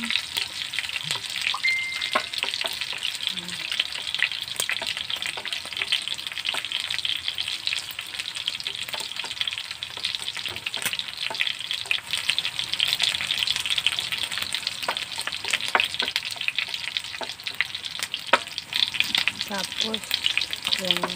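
Garlic sizzles steadily in a hot pan for home-style adobong sitaw with chicken neck, a continuous crackling fry with scattered light clinks and scrapes, close and even throughout, no talking.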